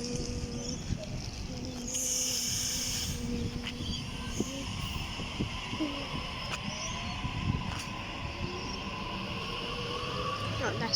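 Train at Punchbowl station on Sydney's Bankstown line, a steady low rumble with faint hissing and brief squeal-like tones, continuous throughout at moderate distance.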